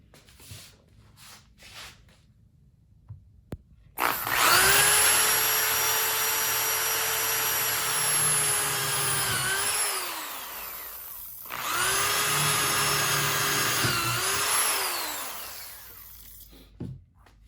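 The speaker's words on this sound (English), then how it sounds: "And now I'm going to transfer the holes that I drilled in the posts into the side rails." A power drill bores holes into the wooden side rails of a custom-built bed frame, whining loudly and steadily in two long close bursts with a brief pause between them and shifts in pitch as the bit bites.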